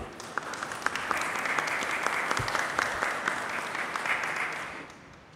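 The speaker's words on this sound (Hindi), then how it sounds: "स्वागत करें तालियों से।" A congregation at a priestly ordination ceremony welcomes a newly ordained priest with sustained applause from many hands, an even roar of clapping with sharper claps scattered through, lasting the whole clip.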